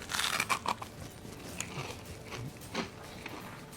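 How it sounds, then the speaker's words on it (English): A few close, crisp crunches from a bite into an air-fried onion ring, with softer chewing crackles following, no talking. "I got my microphone close so you can hear the crunch."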